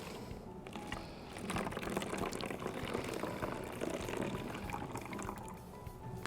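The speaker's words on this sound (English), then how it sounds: "You can go ahead and pour the vinegar in" Vinegar poured into a water bottle for a balloon-inflating experiment: a steady close trickle and gurgle of liquid running for several seconds, with no talk over it.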